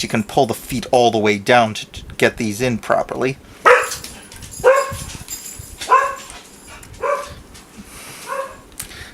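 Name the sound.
dog barking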